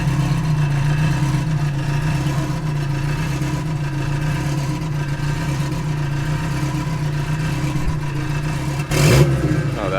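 Modified Mk2 car engine running on a dyno after a throttle-response tweak, a steady close droning hum with a brief sharp blip of revs near the end.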